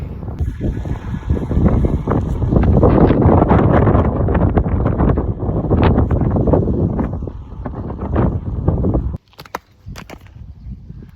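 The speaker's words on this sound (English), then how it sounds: "It's just a little bit windy." Strong wind buffets the microphone in heavy, rumbling gusts for several seconds, then suddenly drops to a quieter rustle.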